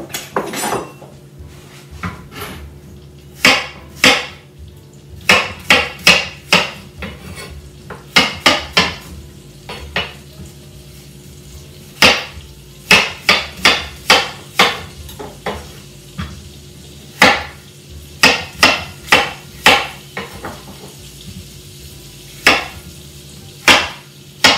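Sharp knife chops on a board as apple is cut into small cubes, irregular clusters of crisp taps over a low kitchen hum, close and fairly loud with quiet gaps between bursts, no talking.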